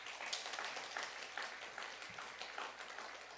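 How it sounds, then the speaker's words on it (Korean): An audience applauding a visiting guest at a university chapel service, a dense steady patter of many hands clapping throughout, fairly distant and even. "여러분 박수 한번 하겠습니다."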